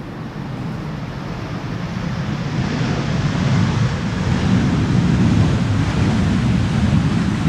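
KLM Boeing 737-700 rolling out after landing on the Polderbaan runway at Amsterdam Schiphol, thrust reversers applied lightly; a broad, distant roar with wind buffeting that slowly builds and stays loud throughout, no voices.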